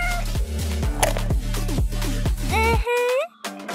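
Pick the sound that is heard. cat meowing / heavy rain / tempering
cat meowing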